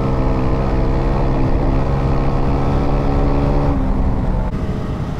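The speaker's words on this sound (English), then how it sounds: "This bike you really have to take by the scruff of the neck and just bring it out at 8000 RPM." A KOVE 450 Rally dual-sport motorcycle engine holds a loud, steady high-rev drone close by, with a sustained buzzing tone that shifts slightly near the end.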